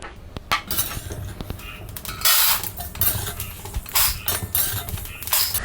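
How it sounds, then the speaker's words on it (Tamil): White sorghum grains being dry-roasted in a pan for a multigrain health mix, with irregular clinks and rattles of grain and utensil against metal, moderately loud and without talk. "அடுத்து வறுக்க போகிறது வெள்ளை சோளம்"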